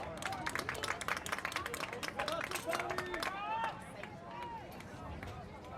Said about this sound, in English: Elicit some applause from the Stillwater fans who are slowly making their way in.